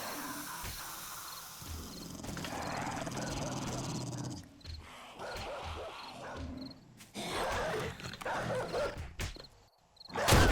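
Zombies in 7 Days to Die growl and snarl in rough, guttural bursts of varying loudness, some close and some further off, with brief pauses between and a loud snarl at the very end.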